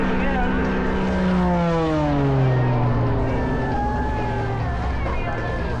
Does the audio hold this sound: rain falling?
no